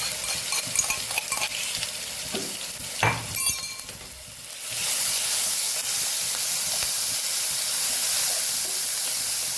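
Ginger, chili and garlic paste hitting hot oil, with stirring scrapes at first, then a loud, broad, steady sizzle and hiss that fills the rest of the clip, close up.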